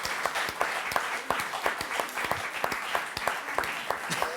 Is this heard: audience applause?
yes